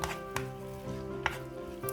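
Masala for a tandoori chicken roast sauce is sautéed in a pan, with a low continuous sizzle under a few sharp scraping strokes of a spatula over two seconds.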